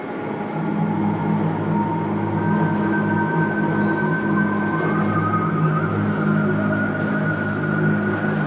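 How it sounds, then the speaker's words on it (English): A Black Mesa transit tram from a video game rolls along steadily, a loud continuous rumbling drone with tonal hum and faint rail whine, starting softly then holding even throughout with no voices. "This train is inbound from Level 3 dormitories to Sector C test labs and control facilities."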